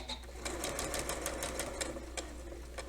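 A sewing machine stitching bias binding runs steadily and close, a continuous fast mechanical whir with light clicking throughout, and no talking over it.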